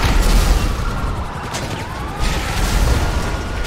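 Dense bursts of gunfire strike the armored glass of a car in GTA 5, a loud, chaotic barrage of booms and cracking hits, close up and with no talk.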